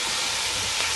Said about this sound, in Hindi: अब हम इसमें ये चिली सॉस में डाल रही हूँ।